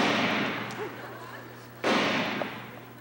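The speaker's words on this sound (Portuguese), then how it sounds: "Só sei que foram dados dois tiros." A gunshot sound effect in a Brazilian stage comedy sketch: one sharp, loud crack lands suddenly after a quieter stretch, against a steady background hum.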